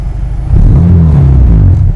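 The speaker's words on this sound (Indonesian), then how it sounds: "Boleh nggak nyalain terus ngegas-ngegas sedikit" A nearby Honda Civic Estilo SR3 with a swapped engine rumbles low, then surges louder as it is revved, its deep growl holding strong to the end.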